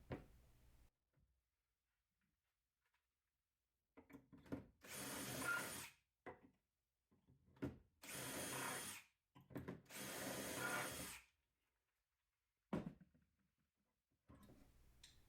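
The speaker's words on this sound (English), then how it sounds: "Drill through all the holes you would like to use and repeat the pattern all over again." Power drill boring shelf pin holes through a Jessem dowelling jig into a cabinet side, several separate short bursts of whirring drilling with quiet pauses and small clicks of repositioning between them, no talking.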